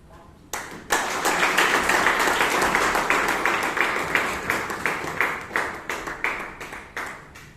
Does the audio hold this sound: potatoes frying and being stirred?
no